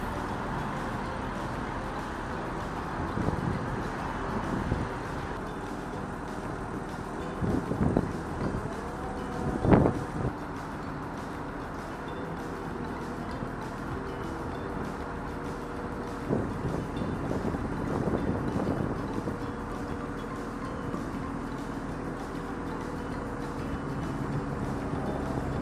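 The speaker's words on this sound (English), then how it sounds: "The wind was blowing quite strongly by this stage" Strong wind blowing at Mostert's Mill, a windmill, gives a steady rushing roar with gusty buffeting bursts against the microphone and some faint knocks and creaks.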